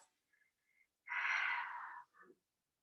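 A single slow, deep breath drawn during a supported yoga stretch, a soft airy exhalation lasting about a second, preceded by faint small breath sounds and followed by a brief trailing puff, intimate and quiet.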